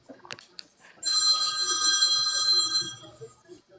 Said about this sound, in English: Somebody got the classic phone.